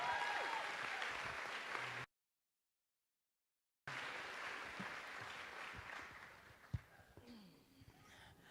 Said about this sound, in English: Please, one more big round of applause for our first panel.